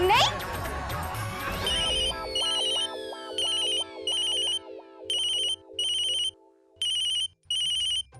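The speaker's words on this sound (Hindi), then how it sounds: "चंद्रिका आंटी का फोन" A telephone ringtone plays loudly in repeated electronic bursts with short gaps, following a brief musical swell at the start, in a domestic drama scene.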